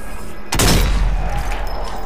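Heavy burst of gunfire in the Zombie Army 4: Dead War video game, a loud sudden volley that starts abruptly and rolls on as a dense, sustained rattle of shots.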